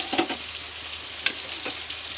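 Ginger paste fries in hot oil for a fish curry, a close continuous sizzle broken by a few short scraping stirs, with no talk.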